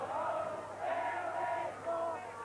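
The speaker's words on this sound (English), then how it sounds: "And the Edgerstown crowd now really rallying behind their side." A crowd of Edgerstown supporters roars steadily through a 1985 Gaelic football match between Mostrim and Ardagh, a loud, continuous wash of cheering and shouting voices that swells and dips slightly without a break.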